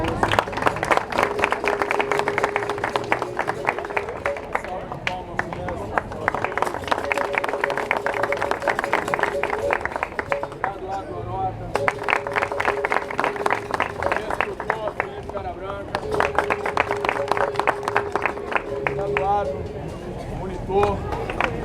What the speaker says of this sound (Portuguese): Para mim é uma salva de palmas.